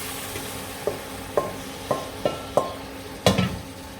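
Beef, onions and mushrooms fry over high heat in madras curry paste, a low sizzle broken by six or seven sharp spoon scrapes and clinks against the pan, close and fairly quiet, with no talking.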